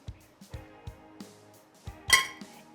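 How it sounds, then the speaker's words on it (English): A utensil stirs flour, sugar and cinnamon in a pie plate, producing soft rhythmic taps and scrapes against the dish, close and quiet, with one brighter clink near the end. "I'm just going to stir those dry ingredients together just to get them combined"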